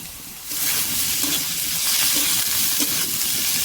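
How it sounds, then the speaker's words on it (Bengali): Ginger paste hits potatoes frying in a pan for a taro stolon curry, setting off a steady, close sizzle that swells after the first half second and keeps crackling evenly, with light stirring under it. "আদা বাটা দিয়ে দিচ্ছি"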